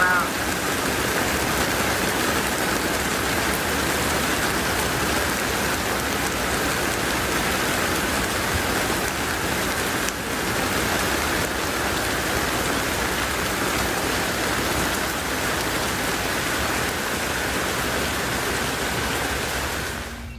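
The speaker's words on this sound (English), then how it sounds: "I don't know that I've ever seen it rain this hard with the sun out like this" Heavy rain pours down hard and steady while the sun is still out, a dense, even hiss of drops on surfaces lasting throughout, with faint voices beneath it.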